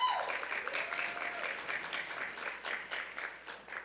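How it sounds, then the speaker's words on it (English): An audience at a recovery event gives a warm round of applause, dense continuous clapping that fades slightly toward the end. "A big round of applause for them"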